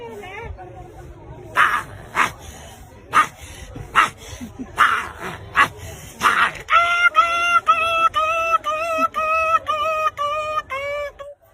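At Banashankari temple in Badami, a voice imitates a big dog and a small dog: a series of sharp barks, then a run of rapid high-pitched yips and whimpers.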